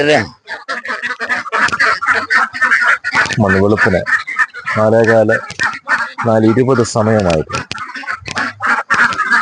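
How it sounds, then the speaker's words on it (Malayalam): Ducks in a pen holding thousands of birds quack repeatedly in nasal bursts around 4 a.m. while a person talks continuously over them, the birds loud and close. "താറാവുകൾ ഇങ്ങനെ ഓടി ആഘോഷമായിട്ട് അങ്ങോട്ടും ഇങ്ങോട്ടും ഓടുന്നു"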